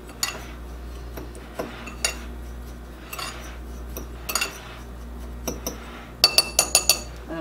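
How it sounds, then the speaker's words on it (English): Breadcrumbs, cheese and garlic salt seasoning mixed in a bowl for air fryer zucchini chips, heard as steady scraping and stirring with clinks of utensil on glass or dishware, ending in a quick run of sharper taps. "We will mix up our breadcrumbs, cheese, and seasoning."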